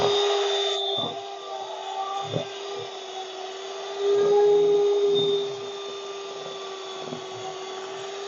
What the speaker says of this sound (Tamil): இப்போ நம்ம பீட்டரால் பீட்டோம்